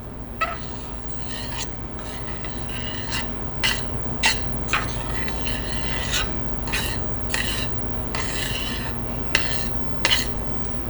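A utensil scrapes and stirs ingredients sautéing in a pan for a Thanksgiving side dish, with repeated rasping strokes and clinks at an uneven rhythm over a soft background hiss, nearby and moderately quiet.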